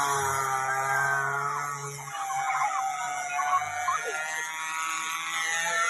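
A model airplane engine whines as it accelerates through takeoff, its high buzzing pitch climbing and sweeping steadily for several seconds at moderate distance.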